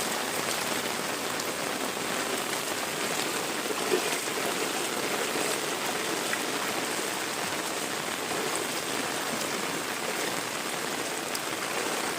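Light rain falls steadily near the flood-swollen Agasti river at Ravande village in Kopargaon taluka, with waterlogged low ground around. A dense, even hiss of drops continues unbroken throughout, with no voices.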